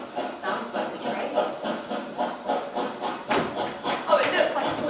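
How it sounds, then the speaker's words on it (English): A steam train passes as a radio drama sound effect, with rhythmic hissing chuffs and clattering pulses repeating steadily, close and moderately loud, building slightly toward the end. "Sounds like a train."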